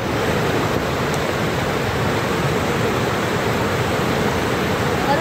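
A village river in the Konkan countryside rushes past in a loud, unbroken broadband roar of flowing water, close and steady with no pauses.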